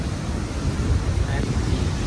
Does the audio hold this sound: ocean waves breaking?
yes